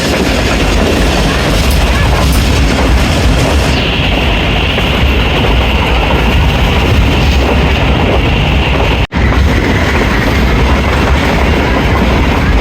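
The Rehman Baba Express passenger train runs on rails, heard from on board as a loud, constant rumble and roar with faint rhythmic clatter, a brief dropout near the end.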